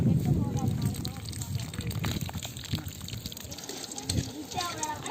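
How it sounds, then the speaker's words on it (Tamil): Tamarind water poured into a pot of sambar in a roadside vegetarian meals kitchen, a gushing, trickling liquid sound running under a person talking throughout. "சாம்பாரில் வந்து கொஞ்சமாக வந்து புளி சேர்த்துக்கலாம் புளி தண்ணி"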